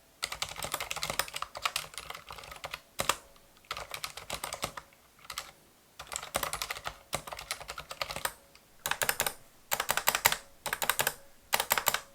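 Close, steady typing on a Thinkway Toucheti tenkeyless mechanical keyboard with silent red switches, muted key thocks in quick bursts separated by short pauses, with slight stabilizer rattle and case resonance.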